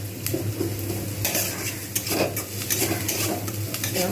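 Potatoes and onions sizzle steadily in a pan while a utensil stirs and scrapes against the metal in irregular strokes.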